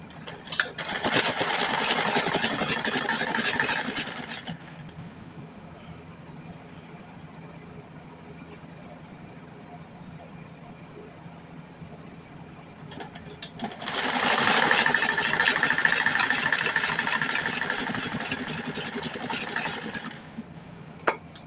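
A sewing machine stitches a kurti sleeve in two sustained runs of fast, buzzing motor noise, separated by a long quieter pause while the fabric is turned, heard close and without talk.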